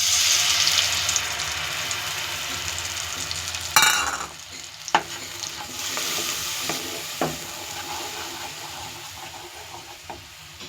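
Spice paste for a prawn malai curry sizzles and fries in a wok, a steady hiss with a sudden louder burst as it goes in, then scraping stirs and occasional clinks over continuous frying, with no talking.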